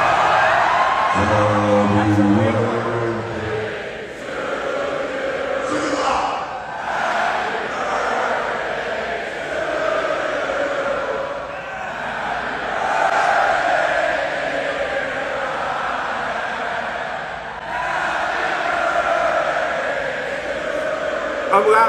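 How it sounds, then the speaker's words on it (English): A large crowd at a live concert sings happy birthday in unison. The massed voices are loud and sustained, swelling with whoops and shouts over the full stretch. "let's sing this happy birthday to"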